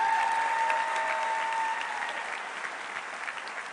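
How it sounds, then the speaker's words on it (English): An audience at the Athena commencement ceremony for the class of 2019 applauds its two student speakers, with broad, steady clapping over a faint sustained tone, easing slightly in volume toward the end. "How about another round of applause for our two student speakers?"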